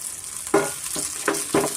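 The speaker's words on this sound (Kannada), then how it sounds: "ಮತ್ತು ಈರುಳ್ಳಿ, ಮೀಡಿಯಮ್ ಫ್ಲೇಮಲ್ಲಿ ಸ್ವಲ್ಪ ನಾವು ಫ್ರೈ ಮಾಡ್ಕೊಬೇಕಾಗತ್ತೆ" Onions fry on a medium flame for a spinach and moong dal pappu, with a soft sizzle broken by three or four distinct scraping stir strokes in quick succession.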